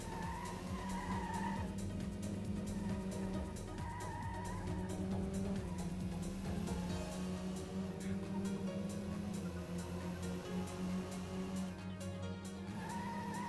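Tires squeal and skid under hard braking in Metropolis Street Racer, the screech sustained over a steady engine drone at moderate level, surging in repeated stretches across the run.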